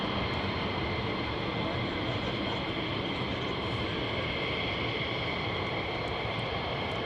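A C-17 military transport aircraft flying over RAF Lakenheath produces a steady, broad engine roar that holds at an even level throughout, with a continuous hiss and no distinct breaks.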